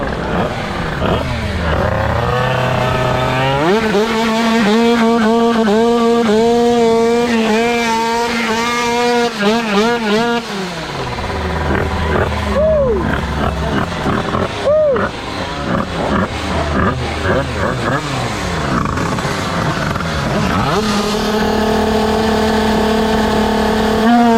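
A small high-revving 50cc drag motorcycle engine screams through rising and falling gear pitches during a drag race final, loud and close, then idles and revs again near the end.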